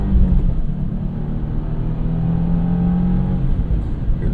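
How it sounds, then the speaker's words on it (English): A 2025 Subaru WRX TS turbocharged engine revs and drones steadily with a rough, rumbling tone, heard close up with no one talking. "Hear the turbo noises."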